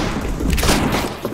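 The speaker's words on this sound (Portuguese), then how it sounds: "tô dando tiro, mano. Tinha quatro caras atirando em mim." A rapid, booming burst of gunfire from the video game Counter-Strike: Global Offensive, with several shots rattling loud and close over about a second.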